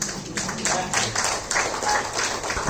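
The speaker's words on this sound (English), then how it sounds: "That deserves a big hand of applause" Applause from an audience at a spiritual talk, steady and dense, with bursts of clapping rising and falling across the stretch, fairly close and filling the room.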